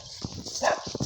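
Horse hooves clip-clop in a quick, uneven rhythm close by, over a steady outdoor background.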